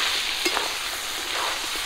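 Fried jackfruit pieces dropping into a pan of simmering chicken curry, giving a steady close sizzle with a couple of soft stirring clunks, no voices.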